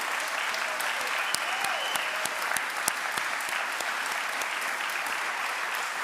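An audience applauds after a university talk, steady dense clapping lasting several seconds at even loudness, with a few sharper individual claps standing out.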